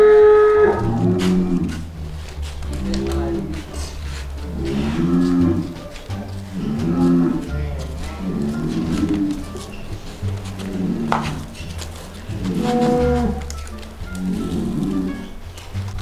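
Cattle on an Indonesian farm preparing qurban animals moo repeatedly, with about eight deep, drawn-out lowing calls in a steady sequence, close and loud, over faint background noise.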